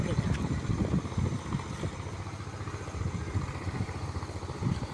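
A motor trawler boat's engine chugs steadily on a river, a continuous low rumbling drone with a regular pulsing throb, mixed with wind noise.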